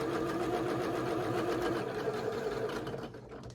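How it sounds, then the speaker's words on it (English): A sewing machine stitches quilt block pieces for an antique tile sampler quilt, a steady close whirring hum running continuously before easing off near the end. "And let's sew this last one through."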